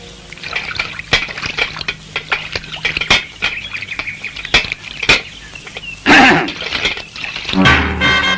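Clean well water is drawn and poured, with splashes and trickles mixed with knocks and clatter of vessels. Close by, it ends in a louder gush of pouring water.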